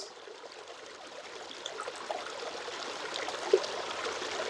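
Water from a waterfall or stream flows in a steady, even rush, a constant wash of sound with no breaks and no voices.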